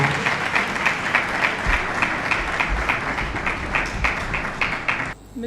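An audience applauds a formal speech by the First Lady at an official ceremony, sustained, dense clapping that holds at an even level for several seconds before dropping off abruptly near the end.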